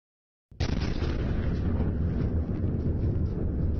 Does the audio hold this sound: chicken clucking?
no